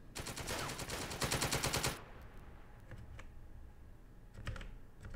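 Rapid automatic gunfire rattles in The Troop tactical video game. A dense, loud burst lasts about two seconds, followed by scattered fainter shots against quiet background noise.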